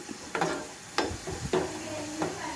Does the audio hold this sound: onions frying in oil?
yes